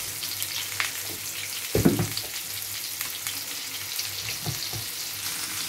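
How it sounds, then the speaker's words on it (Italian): Floured rabbit pieces browning in a hot pan with garlic give a steady crackling sizzle throughout, with a louder burst of spattering near the middle as pieces are moved, and no talking. "cominciamo a mettere il nostro coniglio infarinato e lo facciamo ben ben rosolare"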